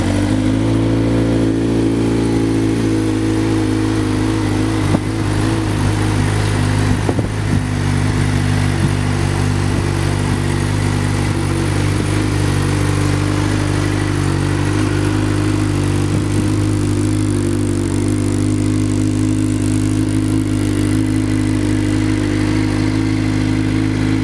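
A 2013 Suzuki GSXR 600 sport bike fires up and settles into a steady, loud, close idle with a smooth continuous engine drone and slight rev fluctuations.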